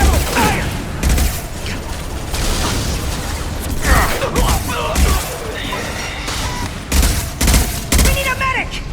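Rapid sci-fi weapon fire in Mass Effect 2 during a combat mission, dense bursts and loud impacts crackling over a busy battle mix, with shouted squad callouts in between.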